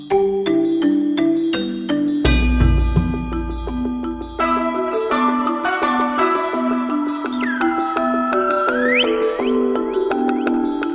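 Gongs and bells from ceremonial temple instruments at the Temple of Heaven ring out in a continuous layered sequence of struck tones, with a deep gong swell early on and bright bell strikes overlapping and decaying, loud and close.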